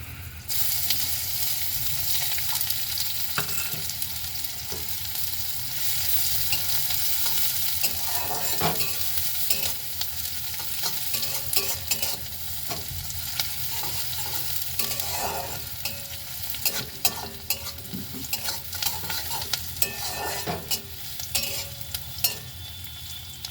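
Chopped onions and dried red chillies fry steadily in a pan for prawn khichuri, a continuous close sizzle broken by repeated scraping stir strokes throughout, with no talking.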